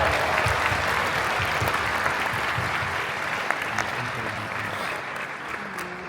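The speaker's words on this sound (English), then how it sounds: "we need a far bigger round of applause" Sustained audience applause fills a large award-ceremony hall at the Indian Film Festival of Melbourne after the Best Indie Film award, a dense steady clapping crowd that softens slightly toward the end.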